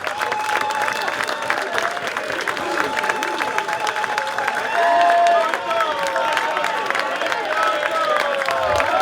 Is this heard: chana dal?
no